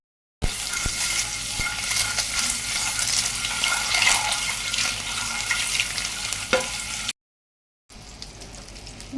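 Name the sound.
biryani cooking on a tawa over low heat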